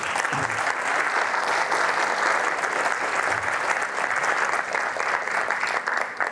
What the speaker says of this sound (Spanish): les pido un aplauso para ustedes mismos por estar aquí